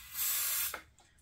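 A short, close hissing spray lasting about half a second, sprayed into the carburetor of a non-running Craftsman 22-inch walk-behind string trimmer, followed by a faint puff and quiet background.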